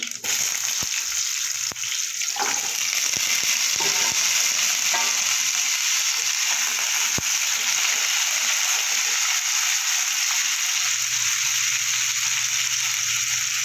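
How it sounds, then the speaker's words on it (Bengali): Potatoes fry in oil after a tempering of nigella seeds, sending up a loud, constant sizzle with a few scraping stirs and clinks early on, close to the pan. "সামান্য একটু লবণ দেবো, একটু হলুদ দিয়ে আলুটা আমি একটু ভেজে নেব।"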